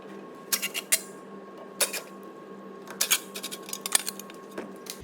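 Torx 30 screws being worked out of the back plate behind a Skoda Karoq front wheel during a wheel bearing job, heard as scattered sharp metallic clicks and ticks in short irregular bursts over a faint steady hum.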